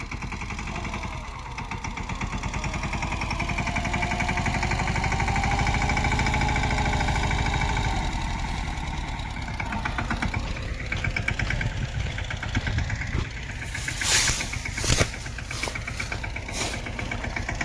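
A tractor engine idles at a steady low rumble for most of the stretch, close and continuous, with a few sharper knocks and clanks near the end and no talk over it.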